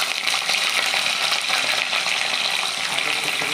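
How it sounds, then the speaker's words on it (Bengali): Cauliflower frying in hot oil in a wok that was just used to fry eggs, giving a loud, close, continuous crackling sizzle with no pauses. "ডিম ভাজা কড়াইয়ে তেলে আমি ফুলকপিগুলো দিয়ে দেবো।"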